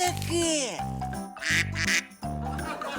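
A duck call imitates duck quacks in a quick series of loud, nasal honks, close by, with a faint voice briefly mixed in.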